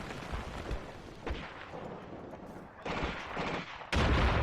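Artillery booms in the WWII tactics game Graviteam: Fateful Strike: several distant, rumbling blasts spaced irregularly, ending with a louder, closer impact near the end, no talk over them.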